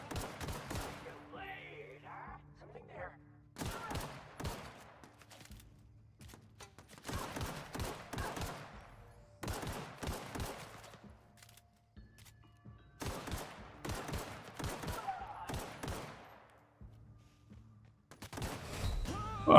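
Video game gunfire comes in repeated bursts of rapid automatic shots separated by quieter pauses, loud and close, with a low steady background hum between volleys.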